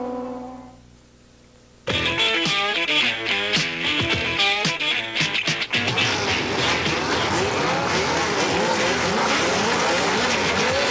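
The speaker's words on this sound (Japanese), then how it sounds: "富士スピードウェイから富士グラン250キロレースをお送りしています。" Race cars at Fuji Speedway during the Fuji Grand 250 km race in foggy conditions, engines bursting in loudly after a quiet moment and roaring close by as a pack of cars passes, with sustained high-revving drone afterward.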